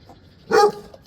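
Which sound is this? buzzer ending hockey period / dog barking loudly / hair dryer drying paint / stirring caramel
dog barking loudly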